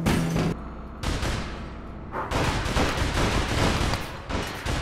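Rapid bursts of gunfire from a team shootout in the online game APB Reloaded, loud and dense with brief gaps, sounding close and continuous.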